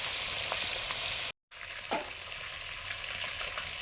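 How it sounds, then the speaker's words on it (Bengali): Tuna fish pieces coated in salt, turmeric and chili frying in hot oil: a steady, close, hissing sizzle with a few pops and spatters, broken by a brief gap of silence, with no voices. "মাছগুলো ভাজতে দিয়েছি আগে, নুন হলুদ মাখিয়ে, একটু লঙ্কা গুঁড়ো দিয়েছি।"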